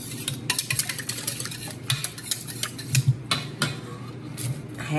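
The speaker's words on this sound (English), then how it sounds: "I can beat them a little better in this big bowl." Eggs being beaten with a utensil in a big bowl for quiche, a steady rapid clatter of metal against the bowl with scraping strokes, close and fairly loud, no talking.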